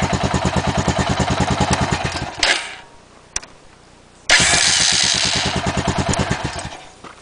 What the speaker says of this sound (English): And let's give it a quick test.